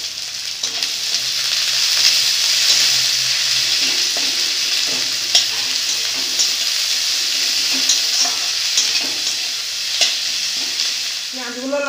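Chopped onions, garlic paste and bay leaves fry in a pan for a soybean dish, a loud continuous sizzle with occasional stirring scrapes and clinks close by.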